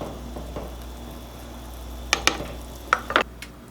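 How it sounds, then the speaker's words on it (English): A pot of minestrone soup boils quietly on the stove, a soft bubbling bed of sound broken by a few sharp metallic clinks. "soup is boiling, so we are going to turn this on a simmer"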